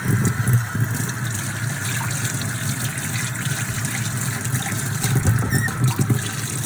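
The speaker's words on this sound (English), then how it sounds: "I'm going to rinse it." Hot tap water runs steadily while dyed fabric is rinsed under it, a continuous splashing gush with small swells in level and no talk over it.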